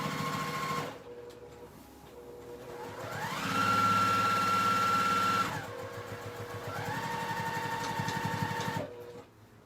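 A sewing machine runs in bursts while stitching the seams of a homemade diaper bag, its motor whirring at steady speed, rising in pitch during faster runs and pausing between passes. Close and fairly loud, with no talking.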